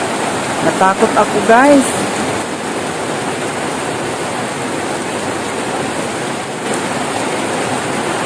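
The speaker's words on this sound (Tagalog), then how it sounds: "walang tigil talaga ang ulan simula kahapon pa" Heavy typhoon rain pours steadily as a dense, loud roar of water in Misamis Oriental, with a few spoken words briefly at the start.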